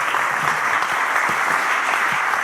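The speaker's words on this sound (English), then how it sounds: "So let's give them a round of applause." An audience at a community climate action event on San Juan Island claps in steady, dense applause. It stays loud and even throughout.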